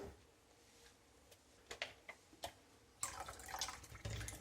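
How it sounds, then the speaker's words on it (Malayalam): Water poured into a bowl of peeled potatoes in a kitchen: faint ticks and small drips, then a brief splashing pour over the last second and a half, quiet and close. "ഞാൻ കുറച്ചും കൂടി വെള്ളം ബൗളിൽ ഒഴിക്കാൻ പോവാണ്"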